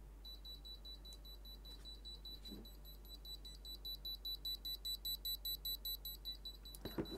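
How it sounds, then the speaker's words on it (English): A cheap quadcopter's electronic LED light circuit beeps like an alarm clock, a steady high-pitched tone pulsing in rapid, regular bursts that grow louder and more distinct toward the end, with no talking. "Sounds like an alarm clock,"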